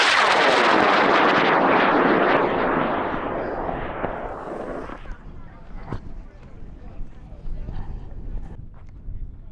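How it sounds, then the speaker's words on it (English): Aerotech L1000 DMS motor firing on a high-power model rocket at the launch pad in Alamosa, Colorado: a loud, sustained roaring burn at first that fades over several seconds into a distant rumble, with people talking faintly afterward. "got an Aerotech L1000 in it, DMS motor"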